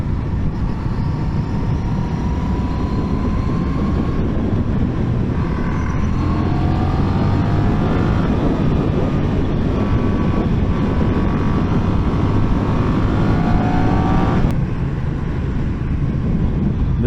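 Honda CMX1100 Rebel motorcycle engine pulling hard in fourth gear, a loud, steady roar with rising pitch sweeps as it accelerates, wind rush underneath, sustained for the whole stretch with no talking.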